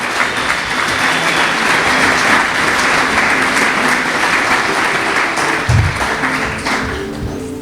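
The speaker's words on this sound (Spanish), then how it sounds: "Denle un aplauso a Jesús." A church congregation applauds in a dense, steady wash of clapping that fills the space for several seconds, close and loud, with no voices standing out.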